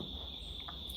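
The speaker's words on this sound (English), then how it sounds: "you hear the crickets start cricketing" Crickets chirp in a steady, high, continuous trill outdoors, faint and close, with no talking over them.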